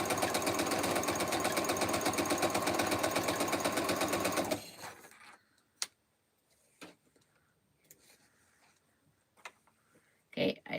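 A sewing machine stitches Double Arrow quilt blocks in a fast, steady mechanical chatter for about four seconds, then stops, leaving a few faint clicks and handling knocks in a quiet room.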